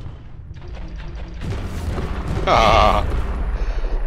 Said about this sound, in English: Shooting rockets.